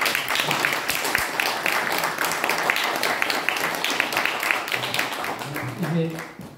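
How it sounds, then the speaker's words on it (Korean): A lecture audience gives the speaker a round of applause, moderately loud and continuous, partly under voices and room noise through most of the stretch. "우리 강사님께 다시 한번 박수를"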